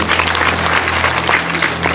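Audience clapping steadily throughout at a lively event, a dense continuous patter of many hands with a low hum beneath.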